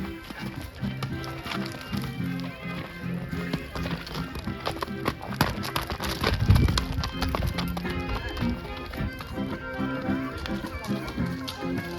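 Hooves of a horse carrying a groom arrive at a wedding on a country farm, a steady clip-clop of hoofbeats over a busy outdoor crowd with voices in the background, growing briefly louder midway.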